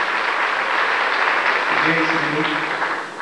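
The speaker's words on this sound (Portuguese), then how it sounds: "vamos dar uma salva de palmas para Jesus" A church gathering gives a loud round of applause during a worship testimony, a thick wash of clapping with a voice briefly rising under it near the end.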